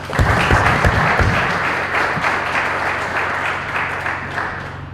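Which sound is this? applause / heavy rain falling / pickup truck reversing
applause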